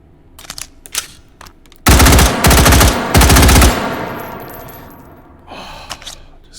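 Rapid automatic bursts from a Model 601 rifle in the H3VR video game, two loud close strings of shots with a lingering echoing tail, preceded and followed by lighter mechanical clicks and handling noises.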